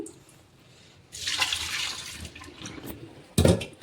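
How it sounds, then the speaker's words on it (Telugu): Raw fish pieces being rinsed in water for a Nellore-style fish curry: a short burst of running, splashing water near the start, then quieter handling and a brief sharp splash near the end, no talking. "ఇంకొక కొంచెం ఉన్నాయి కదా, అవి కూడా మళ్ళీ అట్లానే కడుక్కున్నాము"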